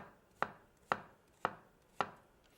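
Knife chopping an onion on a cutting board: four crisp, evenly spaced chops about half a second apart, close and clear against a quiet kitchen.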